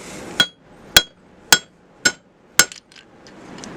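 Five sharp, evenly spaced hammer blows ring out on a steel striking plate, each a bright metallic clang close by, followed by faint rattling and quiet.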